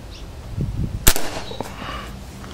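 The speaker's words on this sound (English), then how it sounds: "let's get some footage of shooting some cans here in the backyard" A Crosman 2240 air pistol fires a single sharp shot at cans in a backyard, a loud crack with a brief ring, set against quiet outdoor background noise.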